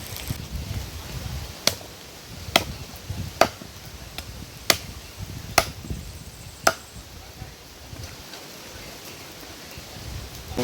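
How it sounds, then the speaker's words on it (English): Knife chopping chicken back outdoors for curry, sharp isolated chops at irregular intervals over wind noise and faint background sounds. "So I'm here chop up a chicken back here"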